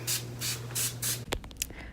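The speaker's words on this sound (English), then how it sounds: "I'm just going to spray this with the thermal water until it's wet" Four quick hissing sprays of thermal water from a mist bottle onto a makeup sponge in a steady rhythm, close up, followed by a few soft rubbing and tapping sounds.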